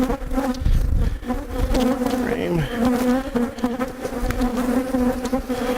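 Honeybees in an open, healthy hive with frames pulled out, a dense, continuous buzzing swarm close up, loud and steady with no talking.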